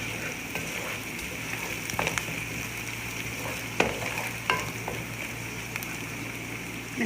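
Garlic and ginger fry steadily in a pan over medium-low flame, a constant close sizzle with a few sharper pops and stirring scrapes; no one speaks.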